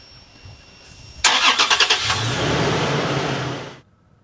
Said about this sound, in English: You turn on your truck